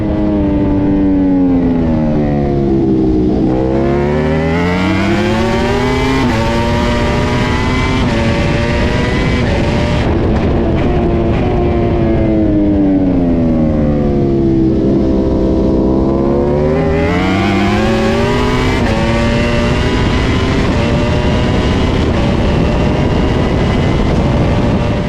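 Racing motorcycles roar past at a race start at Imola, engines rising and falling in pitch in long sweeping passes, loud and continuous throughout with no talk.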